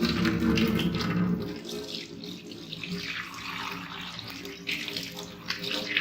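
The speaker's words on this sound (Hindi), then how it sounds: "इसलिए सबसे पहले हमने अपने हैंड वॉश करने हैं अच्छी तरह से" Hands being washed under a running kitchen tap, a steady splashing water stream with shifting rushes as the hands move, close by; a faint voice is briefly present.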